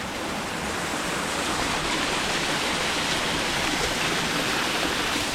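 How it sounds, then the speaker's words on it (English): A river runs steadily close by in a snowy winter landscape near a hot spring, giving a dense, continuous rushing wash with no breaks and no voices. "You can see the river right over the side."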